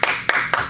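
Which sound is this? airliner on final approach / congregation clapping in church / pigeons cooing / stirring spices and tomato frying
congregation clapping in church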